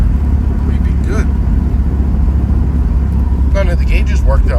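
A 1986 Pontiac Fiero GT drives along with a steady, loud low rumble from its engine and road noise, and a voice briefly speaks over it near the end.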